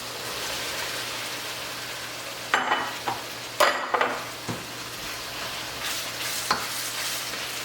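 Green and yellow squash is stirred into a sizzling ratatouille pan: a steady frying hiss runs throughout, broken by a few close scraping and clattering stirs near the middle, with no voices.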